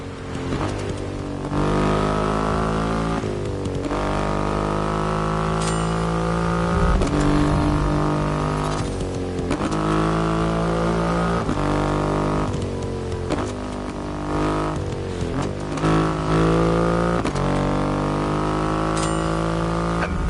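Triumph Rocket 3 motorcycle with a 2.5-litre engine, shown in The Crew Motorfest, revving up and down in long rising and falling sweeps, a deep, steady engine drone that is loud and close throughout, with no talking.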